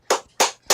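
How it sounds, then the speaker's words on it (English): Three separate claps ring out at a steady beat, close and crisp, with quiet gaps between them, a small round of applause rather than a full crowd. "let's give him a round of applause"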